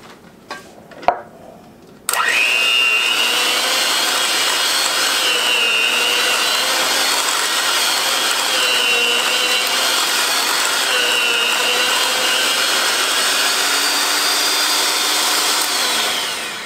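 A food processor whizzes a dried beef cheese ball mixture with garlic-parsley powder, starting with a few clicks and bumps, then a loud, steady whirring motor that runs for about fourteen seconds before winding down.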